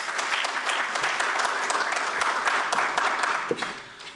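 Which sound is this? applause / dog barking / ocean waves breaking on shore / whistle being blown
applause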